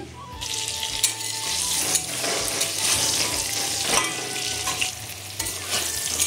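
Pointed gourd (potol) fries in oil with a pinch of salt, a loud, steady sizzle close up, punctuated by repeated stirring scrapes and light knocks of a utensil against the pan.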